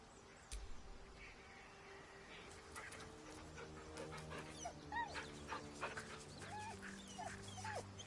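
A dog in the video game Baldur's Gate 3 whimpers and whines in a series of soft, high, wavering cries over sustained background music tones, with brief panting breaths between them.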